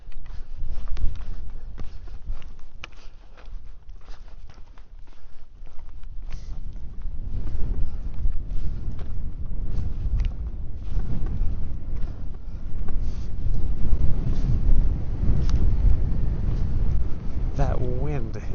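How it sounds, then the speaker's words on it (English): Cold wind gusts across an exposed mountain overlook on a hike, buffeting the microphone with low, uneven rumbling throughout, while a person speaks over it. "That wind is quite cold, by the way."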